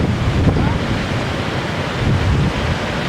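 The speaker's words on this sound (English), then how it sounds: "It's getting a little windy out here." Steady wind roars across the microphone outdoors, a continuous loud rushing with gusts swelling and easing, no voices.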